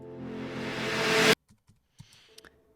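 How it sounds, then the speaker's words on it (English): A white noise sweep with automated distortion and panning builds steadily louder and cuts off abruptly, followed by a few faint scattered electronic hits in a dance track. "I did that with the white noise as well"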